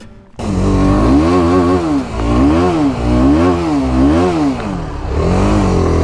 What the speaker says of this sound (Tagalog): Ay na magpapainit ng motor.